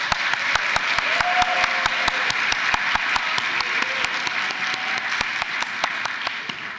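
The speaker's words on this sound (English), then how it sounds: "Everyone, please give a round of applause to all the family members, partners, and guests here to celebrate their graduating loved ones." Audience at a graduation celebration applauding family members, partners and guests, a steady, sustained patter of many hands clapping, with a few sharper individual claps standing out above the crowd.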